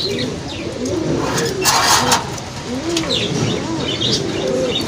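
Red Ash Shorten pigeons cooing in low repeated rolling calls close by, with bursts of wing flapping and soft chirps mixed in, loud and continuous with no talk.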